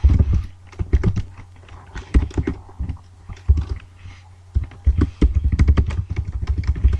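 Fast clattering keystrokes on a computer keyboard while someone types jQuery website code, irregular bursts of close, crisp taps with short pauses between runs, and no talking.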